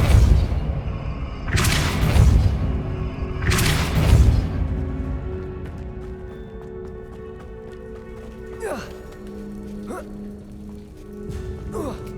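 Two heavy whooshing blasts of the Depulso spell in Hogwarts Legacy, followed by fainter magical chimes and ambient game sounds.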